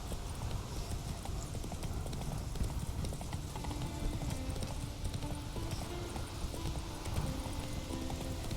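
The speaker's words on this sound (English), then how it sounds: "Whoa there, Roach." Horse hooves clop at a steady walking rhythm in The Witcher 3: Wild Hunt video game. Each footfall is a close, continuous clip-clop over a dense bed of outdoor game ambience, with no clear speech.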